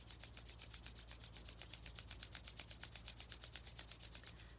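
Palms rub briskly together during a Kundalini Yoga exercise, making a quiet, fast, evenly spaced swishing that continues without a break.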